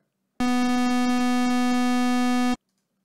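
A steady, buzzy, slightly detuned synthesizer square-wave tone holds one low pitch for about two seconds, then cuts off cleanly. No voices.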